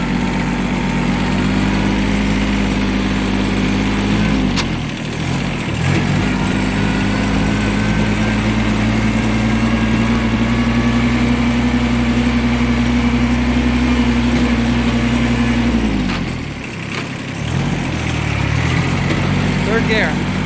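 A Kubota B6200 compact tractor runs in third gear at its top speed of about 12 km/h, its small diesel engine droning loud and steady with a slight rise in pitch midway and a brief dip near the end.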